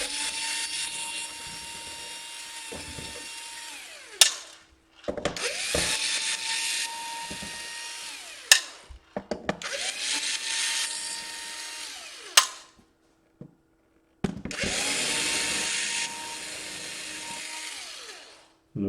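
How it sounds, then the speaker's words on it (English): A small electric screwdriver whirs in four separate bursts while taking apart an Asus R500V (K55VJ) laptop with stubborn screws. Each run of several seconds is broken by short clicks and clatters of parts, close and fairly loud. "None of the screws are screwing. Nothing is unscrewing properly here."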